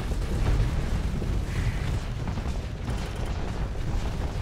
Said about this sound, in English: All I do is fire these guns, and I'll fire all the guns.